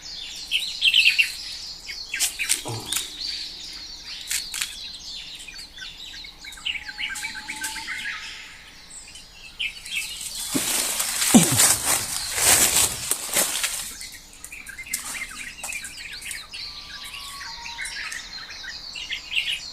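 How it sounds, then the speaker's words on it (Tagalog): Many birds call with scattered chirps and tweets in an outdoor setting, then a loud burst of rushing, fluttering noise like wings flapping swells in the middle before settling back to sparse calls. "maraming ibon doon, no?"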